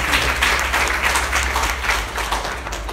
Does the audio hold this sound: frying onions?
no